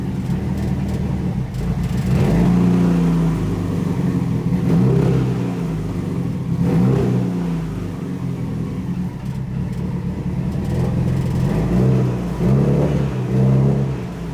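A Mitsubishi Evo running while lifted, shifted into first gear so the wheels turn; a steady engine rumble with gentle rises and dips in revs, close by, with no voices.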